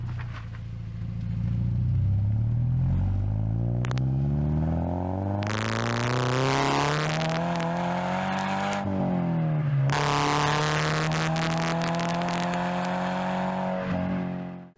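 A Toyota GT86 engine and exhaust, recorded up close, rev and accelerate in long rising sweeps with a short lift-off and shift between pulls, loud and raspy throughout with no talking.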